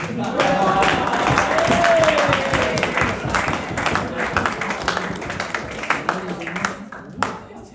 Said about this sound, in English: a short round of applause for Mr. Jason Holm, please.